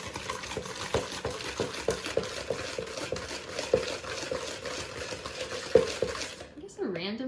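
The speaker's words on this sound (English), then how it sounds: "Now I am mixing the sugar and butter together with the egg." A whisk beats sugar, butter and egg together in a bowl, producing steady soft scraping and clinking strokes near the mic, ending with a brief voice.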